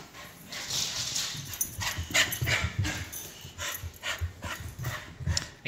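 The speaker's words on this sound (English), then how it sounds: "You're a wet dog." A wet dog pants rapidly and scrambles around nearby, heavy breathing mixed with paw scuffs and soft shaking noises in a brief, busy stretch without speech.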